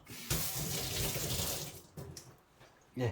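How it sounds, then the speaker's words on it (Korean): Tap water runs steadily while a water purifier filter brush is rinsed under it at a sink, a continuous close splashing stream that breaks off near the end with a brief louder gush. "흐르는 수돗물에 한번 이 솔을 좀 닦았어요"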